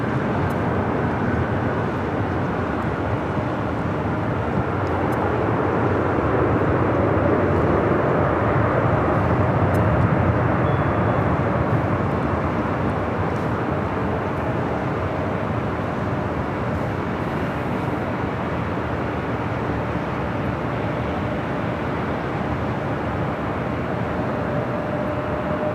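Steady, loud aircraft roar at Los Angeles LAX airport, a continuous broadband rumble of jet airplanes that swells slightly around the middle and stays unbroken throughout, with no talk.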